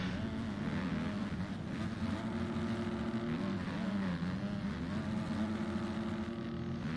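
KTM and Kawasaki motocross bikes racing bar to bar in an Open Pro moto, engines droning steadily with revving pitch sweeps, moderately distant and continuous, with a commentator talking over them.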